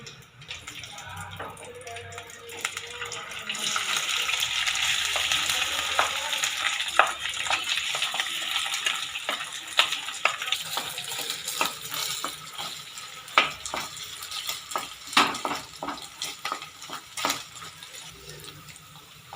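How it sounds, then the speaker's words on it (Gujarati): Potatoes fry and get stirred in hot oil in a pan for Kutchi dabeli masala, a steady sizzle running throughout with repeated sharp scraping clicks of the spoon, close and fairly loud, no talking. "આવી રીતે બધા બટાકાને તેલમાં થોડા ફ્રાય કરી લઈશું।"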